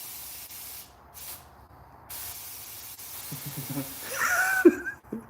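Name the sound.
spray gun spraying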